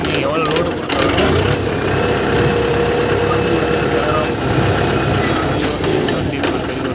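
A Mahindra 595 Turbo diesel tractor engine runs at a steady, loud rumble close by, with a continuous heavy drone throughout.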